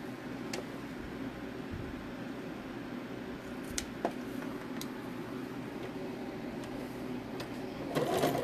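A sewing machine runs steadily while stitching a turkey-shaped pillow, a quiet, even mechanical whir with a few faint clicks, close by and without talk.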